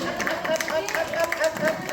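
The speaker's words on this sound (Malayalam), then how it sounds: "കൈയടിച്ച് വേണേ പ്രോത്സാഹിപ്പിച്ചോ" A crowd at a village ward community anniversary gathering in Kerala claps along to cheer contestants at the start of an event, steady dense clapping with murmuring voices mixed underneath.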